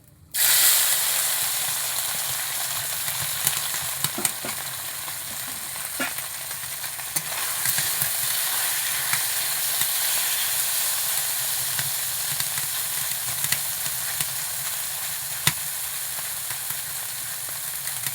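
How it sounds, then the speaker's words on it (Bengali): Small fish sizzle steadily in a pan of hot oil, an even hiss that flares sharply as they go in and then carries on for the whole stretch, with faint occasional utensil clicks. "এই মাছটা হালকা হালকা করে ভাজা করব।"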